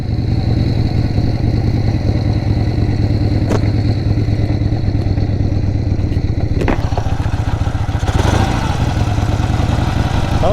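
A 1976 Harley-Davidson Ironhead Sportster idles close by, its loud, steady, lumpy engine beat holding throughout, with a few clanks and knocks on top.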